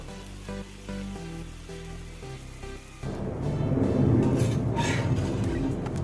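Wheat dosa frying in oil on a hot pan, a steady loud sizzle that jumps up sharply partway through as oil is added, after an initial stretch of quieter hissing over low tones.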